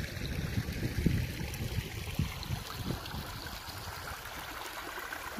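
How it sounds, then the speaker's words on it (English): A babbling brook at a campground near Forks, Washington, flowing steadily with soft trickling and low gurgles close by, faint and continuous with no one speaking. "It's a babbling brook."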